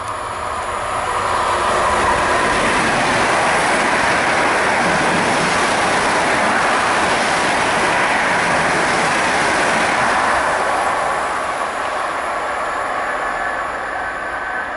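A train roars through Turenki railway station at speed, loud and close for about ten seconds with rushing wheel and rail noise, then fading slightly as it passes, no talk heard.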